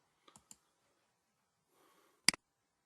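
A computer mouse clicking a checkbox, heard as a few faint, sharp clicks early on, a soft rustle, then one louder, close double click near the end.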